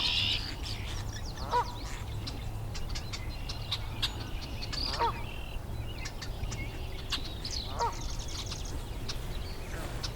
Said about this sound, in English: Quite a few marsh wren right here.